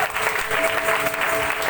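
Steady rhythmic clapping from a worshipping congregation in Karachi forms a thick, even wash of applause throughout.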